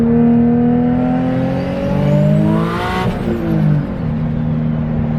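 A turbocharged Nissan 350Z revs hard while its wheels spin, the engine whine rising in pitch then falling and climbing again, loud and close throughout.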